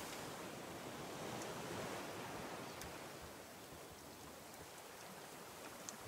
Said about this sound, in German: Regen, der große Gleichmacher.